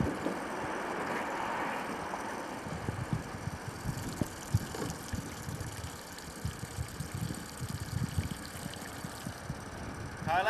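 A Mercury outboard motor on a jon boat is pull-started, then settles into a faint, low, steady running putter heard from a short distance.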